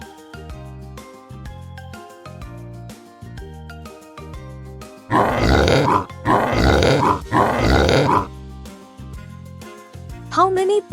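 Pigs grunt in three loud, rough bursts of about a second each, evenly spaced over cheerful background music.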